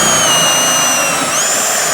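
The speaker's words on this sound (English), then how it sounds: "Just using a hole saw, but you need to take out the pilot bit." A steady, high-pitched whine of a drill cutting through roof board with a hole saw, pilot bit removed, continuous and close, with a slight pitch shift near the end.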